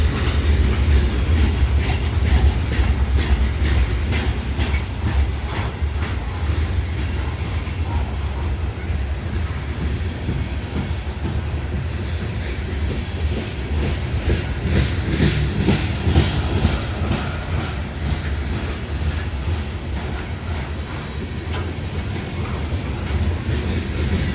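A train rolls past at White Sulphur Springs, West Virginia, with loud continuous rumble and a steady rhythmic clickety-clack of wheels over rail joints throughout, heard up close.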